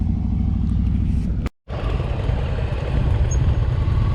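A brand new Indian Challenger motorcycle riding at low speed, a steady deep engine rumble with wind noise, broken by a brief total dropout before resuming just as loud, close and constant with no voices.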